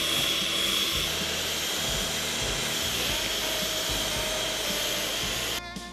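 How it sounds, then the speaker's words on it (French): An electric hand mixer beats eggs and sugar with a steady, continuous whirring drone, close and unbroken throughout, cutting off abruptly near the end. "Cette fois, battez avec le batteur électrique jusqu'à ce que le mélange devienne crémeux."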